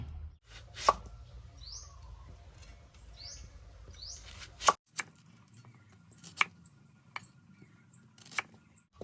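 Sharp knife chops on a board as vegetables for kimchi are sliced into long strips, a few irregular strikes with quiet gaps between them, close up, while faint bird chirps sound in the background.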